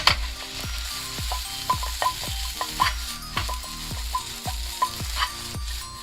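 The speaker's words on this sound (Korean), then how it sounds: "계란의 일부는 스크램블 에그로 익고 또 일부는 밥알에 노란 계란물이 입혀질 수 있도록 고루고루 볶아주세요" Egg fried rice stir-fried in a pan, a continuous close sizzle broken by a regular rhythm of spatula scrapes and tosses, roughly two strokes a second, with no voices.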